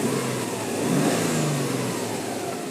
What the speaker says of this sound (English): Give a little rev for you so you can hear it.